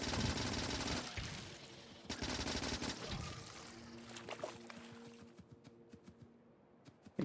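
Gunfire in the Factorio video game hits a frozen enemy spawner: dense rapid automatic bursts at first, then thinning into scattered separate shots and clanks near the end.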